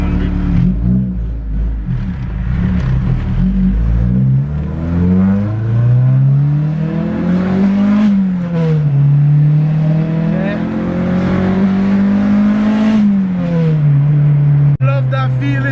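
Honda Type R four-cylinder engine, an EK9 or DC2 Civic/Integra, idling too high, a steady close drone with a rising and falling pitch, heard under people talking nearby.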